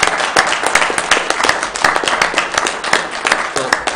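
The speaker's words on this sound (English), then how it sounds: "Why don't we have a round of applause for Steve?" A county commission meeting audience gives a round of applause for an honoree, steady dense clapping from many hands at close range filling the room throughout.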